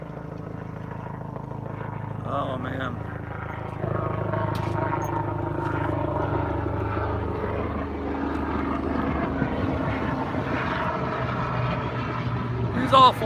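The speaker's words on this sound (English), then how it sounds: "Oh, here comes another helicopter flying overhead." A loud helicopter passes overhead outdoors, its steady rotor thrum and engine drone holding throughout as a person talks briefly beneath it.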